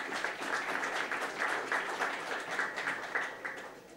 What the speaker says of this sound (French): On va vous applaudir aussi, pourquoi pas.